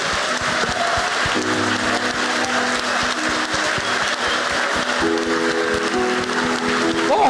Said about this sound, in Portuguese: Eu gostaria que nós aplaudíssemos a Deus com as mãos levantadas.